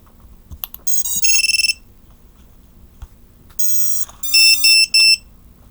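A drone's battery alarm, on a Volador Deadcat build, sounds in bursts of shrill electronic beeping: a couple of short clusters, a pause, then a louder run of repeated chirping tones, close and clear with no talking.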